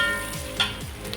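Slit green chillies drop into hot oil for a country chicken curry and give a brief, close, crackling sizzle over a steady frying hiss.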